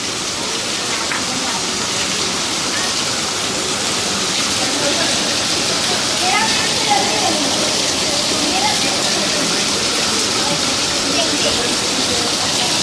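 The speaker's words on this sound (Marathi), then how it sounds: "एकदम जोरदार पाऊस आहे बघा" Torrential monsoon rain falls in a constant, broad rushing wash, loud and near, with faint voices and a few small knocks buried beneath the downpour.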